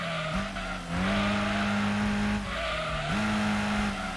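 Car racing in Gran Turismo 2 on PS1 during a luxury four-door cup event, engine droning steadily while the tires squeal through the corners, loud and continuous, with the pitch shifting as the car shifts gear.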